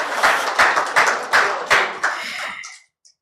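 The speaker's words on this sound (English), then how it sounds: "A round of applause." Audience applause at a live event comes in a few strong, evenly spaced bursts of clapping that ring out, then stops abruptly into silence.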